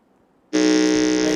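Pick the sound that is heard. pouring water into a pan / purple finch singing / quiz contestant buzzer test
quiz contestant buzzer test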